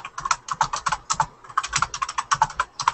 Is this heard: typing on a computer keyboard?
yes